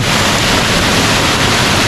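A rushing mountain river roars along the Kheerganga trek in the Himalayas, a dense, loud, unbroken wash of water noise close to the listener, steady throughout with no voices.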